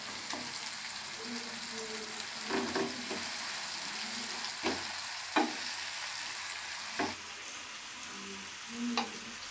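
Kohlrabi (ulo kobi) and cauliflower pieces hit a hot pan with tomato for bharta, giving a steady close sizzle broken by several sharp clinks and scrapes of a spatula stirring through the mix.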